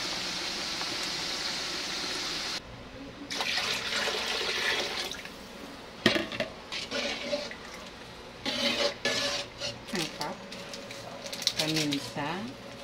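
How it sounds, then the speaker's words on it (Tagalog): Broth poured over cooking meat in a pan, a steady watery splash and sizzle that shifts into bubbling with scattered clatters and bursts, heard close. "So lalagyan na natin yan ng sabaw."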